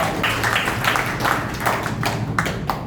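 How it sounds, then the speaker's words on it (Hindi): Steady, dense clapping from a meeting audience of farmers' committee members, loud and continuous throughout, with a low hum beneath. "आप अपने लिए जोर की ताली बजाओ"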